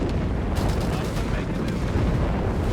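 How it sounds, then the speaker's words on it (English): Artillery barrage in Company of Heroes 3, a World War II strategy game, rumbling as a dense, continuous wash of booming blasts and crackling impacts under a commentator's voice. "Second Sugar barrage off there,"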